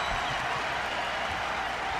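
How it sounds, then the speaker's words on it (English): Basketball arena crowd applauding a Pacers player as he sits down during a 1995 Bulls versus Pacers NBA game, a steady, dense wash of clapping filling the whole moment without letup. "The applause for Vern Fleming as he sits down."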